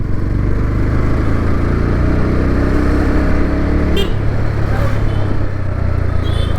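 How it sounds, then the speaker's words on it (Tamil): Road traffic rolls past a Bajaj Pulsar NS160 motorcycle as it rides through congested city streets near a railway gate, with a loud, steady engine drone and nearby vehicles rumbling close by. There is no speech. "ஃப்ரீயாகவே ரோடு இல்லை, ஃபுல்லாக டிராஃபிக் தான்."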